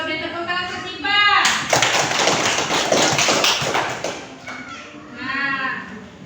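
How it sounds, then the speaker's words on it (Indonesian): Primary school pupils in a classroom clap together in a short burst of rapid applause, framed by a teacher's voice speaking before and after. "beri tepuk tangan ke Sipa"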